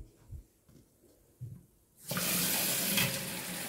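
Tap water runs steadily into a container as cold water is drawn to dissolve baking soda for pickling plums in a home kitchen, a loud continuous rush that starts abruptly after a few faint knocks.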